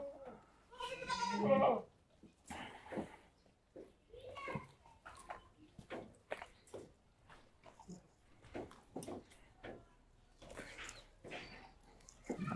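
A goat bleats loudly near the start on a goat farm, followed by scattered shorter animal calls and people talking nearby.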